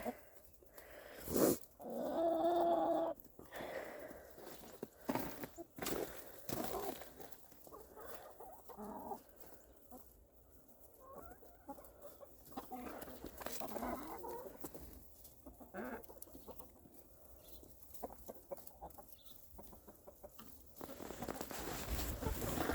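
A rooster in a winter henhouse making low, soft clucking calls to draw the hens to treats, mixed with other chickens clucking and fluttering nearby.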